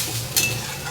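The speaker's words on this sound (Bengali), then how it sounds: "তো দেখো আমি জল দিয়ে দেবো, উষ্ণ গরম জলই দিলাম।" Warm water hits a hot pan of Bengali snakehead fish curry base, giving a sudden hiss and sizzle that rises sharply and then settles into steady frying crackle.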